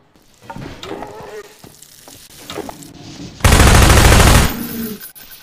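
A loud, close burst of Half-Life 2 gunfire erupts about a second long near the end, after quieter game sounds and footsteps.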